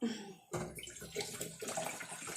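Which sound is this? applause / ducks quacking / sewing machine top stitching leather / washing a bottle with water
washing a bottle with water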